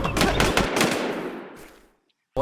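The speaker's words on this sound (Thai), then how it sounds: "โอ้ย โดนยิงว่ะ" Gunfire rattles in the online survival shooter Infestation, a rapid burst of loud shots that fades into a decaying echo, falls silent, then a sharp shot cuts in at the very end.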